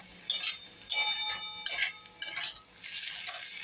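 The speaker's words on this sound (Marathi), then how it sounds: "आता छान भाज्या परतून घ्यायच्या" Vegetables sautéing in a pan for vermicelli upma in a village kitchen, a soft sizzle with repeated scrapes and clinks of a spoon stirring against the metal pan, close and alone.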